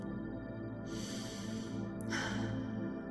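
Slow, deep breaths close to the microphone, a long noisy inhale followed by a sharper rush of air, faint and alone.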